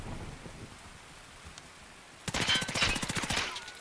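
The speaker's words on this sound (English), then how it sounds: "Someone's sniping at us." After a quiet stretch, a rapid burst of loud cracking sniper gunfire erupts in Escape From Tarkov, a dense rattle of shots with a sharp, close feel.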